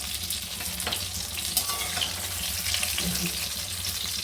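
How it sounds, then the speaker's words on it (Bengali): Eggplant slices fry in hot oil with a dense, continuous crackling sizzle, steady and fairly close, with a few faint stirring clinks. "আমার বেগুনগুলো ভাজা হয়ে গেছে, এবার আমি তুলে নেব"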